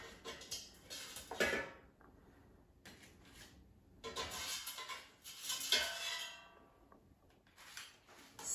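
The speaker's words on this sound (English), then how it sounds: "Let me take them out of the air fryer." English muffin pizzas come out of an air fryer with a few separate clanks and scrapes of metal basket and utensils, spaced by quiet gaps, close and fairly soft.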